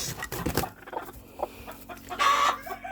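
A broody hen settled on a nest of hatching eggs clucks and grumbles in short, close bursts with quiet pauses between them, ending in a louder agitated squawk.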